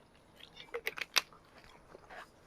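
Someone chews squid in cold raw fish soup (mulhoe) up close, a few soft crunchy bites clustered together and then fading into quiet mouth sounds.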